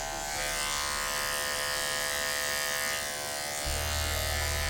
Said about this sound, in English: you're gonna take this 0/8 blade and you really just clean up where that one blade is